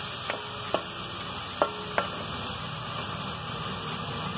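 Medium-sized onion added to a pan for crispy rolls, a soft steady hiss of frying with a few light clicks of stirring or utensil taps near the start, close and quiet, no talk.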